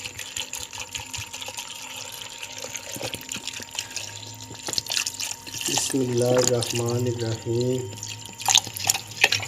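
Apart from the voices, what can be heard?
water poured into a jug of cut peaches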